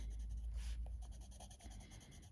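Polychromos colored pencil coloring on paper, a close, continuous scratchy rubbing of the pencil tip across the sheet in quick back-and-forth strokes, steady and fairly quiet with no talking.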